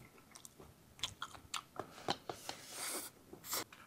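Close, wet chewing of ham during a home meal, a string of soft smacking and crunchy bites at an uneven rhythm, quiet with no talking.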